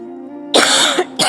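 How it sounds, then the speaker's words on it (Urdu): A woman gives a short harsh cough, then a second one after a brief pause. It is loud and close, with no talking over it. "کھانسی بہت زیادہ آ رہی ہے"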